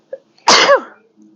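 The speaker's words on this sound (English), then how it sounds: "I gotta sneeze" One loud sneeze bursts out close up after a small sharp intake of breath, followed by a faint murmur.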